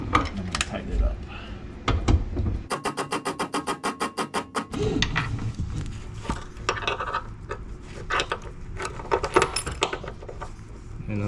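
A ratchet clicks in a fast, even run while new grade 8 bolts are tightened on seat belt mounts inside a 1979 Ford Bronco, surrounded by metallic handling and rubbing noises up close.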